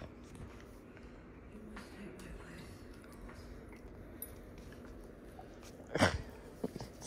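Dogs play indoors with faint scuffling, chewing and jingling collar tags, plus a sharper clatter near the end, under a person's quiet talking.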